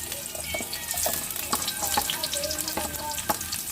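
Garlic frying in oil in a pan: a busy, crackling sizzle up close, with stirring knocks and scrapes popping through at irregular intervals, no voices.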